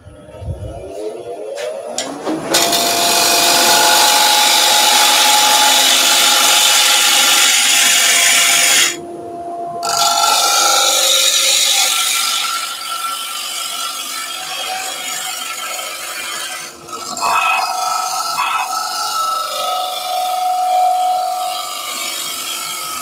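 A wood lathe spins a rough-turned bowl while the tool cuts, giving a loud, steady scraping and rubbing roar for long stretches, with a short break near the middle and a faint whir as it slows toward the end.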